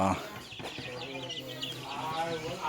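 Dark Mahogany Rhode Island Red chickens on a farm in Cordon, Isabela, clucking and calling in close, uneven bursts, mixed with human voices talking nearby.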